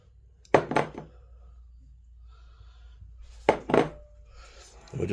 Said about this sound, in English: we're just going to transfer our egg yolks in with our white